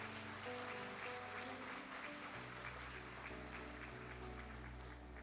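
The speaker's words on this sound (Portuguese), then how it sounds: "Dê uma salva de palmas para o Senhor Jesus" Congregation applauding for the Lord Jesus during a sermon on spiritual fatherhood, a steady sustained wash of clapping with music sounding underneath throughout.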